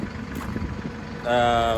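A farm tractor idles while warming up, a steady mid-pitched engine drone with a rough low rumble that grows louder and harsher toward the end, with someone talking over it early on.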